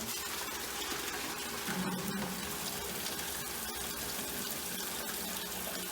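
Crushed grapes and juice are poured into a Weston wine press, a steady close wet rushing and splashing that holds constant for several seconds.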